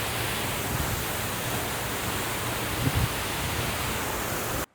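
A waterfall pours with a strong, heavy flow, making a loud, constant broadband roar that fills the whole stretch without pause until it cuts off abruptly at the end. There are no voices.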